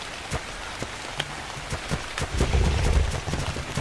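Steady heavy rainfall in the video game ARK, a dense even hiss of drops with scattered sharper ticks, swelling slightly louder toward the end, with no talking.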